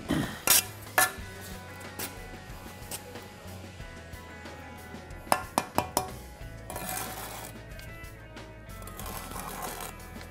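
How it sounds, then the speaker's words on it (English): Steel trowel scraping and clinking against mortar and brick while a brick is laid, several sharp metallic taps and scrapes in bursts, close and fairly loud, separated by quieter stretches. "as I'm laying the brick, I'm scraping the mortar forward, so the mortar doesn't fall onto the floor"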